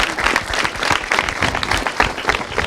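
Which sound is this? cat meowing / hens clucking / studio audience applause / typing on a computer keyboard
studio audience applause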